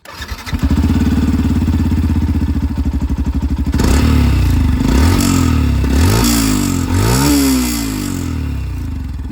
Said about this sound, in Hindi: अब मैं आप लोगों को यहाँ पर जो FZ है इसकी जो आवाज़ है ये भी मैं आप लोगों को बिल्कुल यहाँ पर सुनाना चाहूँगा।